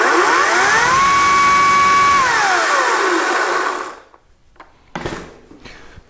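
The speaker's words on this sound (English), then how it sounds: "the bar on this is still very loud as the blade turns around" A Ryobi 40V brushless 14-inch cordless chainsaw whines loudly at a steady high pitch, winds down after a few seconds, then gives two short bursts of revving.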